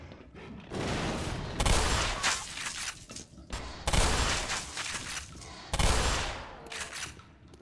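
Three bursts of rapid gunfire in the video game Black Mesa, each a loud volley of shots separated by short pauses.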